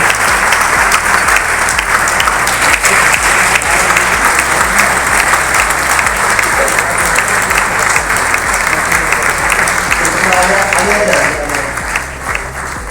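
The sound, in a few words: audience applause welcoming top achievers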